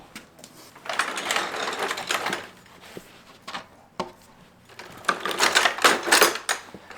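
A farrier clinches the nails on a toe-clipped horseshoe fitted to an eventing horse, making two close spells of rapid, gritty metallic tapping and rasping separated by a quieter pause, with no talk.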